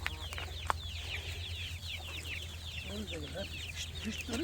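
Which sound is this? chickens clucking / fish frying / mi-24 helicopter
chickens clucking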